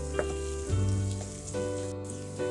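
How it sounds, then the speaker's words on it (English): Onions frying in a pan with curry leaves and salt, a soft continuous sizzle with faint tonal hum and light stirring, fairly quiet and without talk. "Now for frying the onions,"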